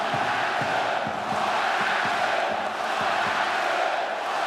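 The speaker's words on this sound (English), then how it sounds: "Crowd in the corner, you can hear them." A handball crowd in the corner of the arena cheers and chants during a women's EHF FINAL4 semi-final between Buducnost and Györi Audi ETO KC, a continuous loud roar with rhythmic thumping beats underneath.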